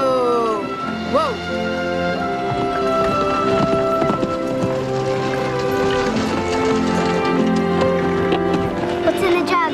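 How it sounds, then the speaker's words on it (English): Hooves of a horse carrying a rider clip-clop across open prairie in a dramatized period film, the steady beats running under a loud musical score with brief voices. "And here comes a handsome man on horseback."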